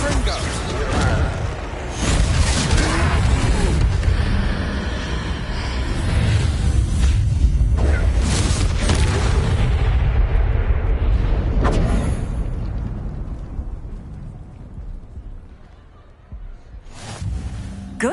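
A Confringo blasting spell from Hogwarts Legacy bursts in repeated fiery booms, loud and close, with rumbling explosive tails blending into continuous battle noise before tapering off near the end.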